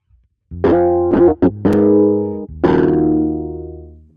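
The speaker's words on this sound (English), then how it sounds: "the Jupiter 8 synth by Roland, and we're starting with this drive bass patch" A gritty, distorted drive bass patch chord from a Roland Jupiter 8 synth sounds in three stabs, two short and one long sustained hit, loud and close with no talking.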